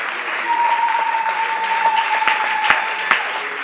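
A church congregation claps and acclaims the Lord in steady, dense applause that fills the room, with a few sharper claps standing out and a sustained tone running beneath.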